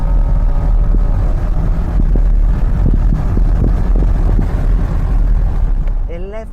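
A Chevrolet C8 Corvette accelerates hard on a quarter-mile run, a loud, low, continuous engine rumble heard from inside the car that eases off in the last second.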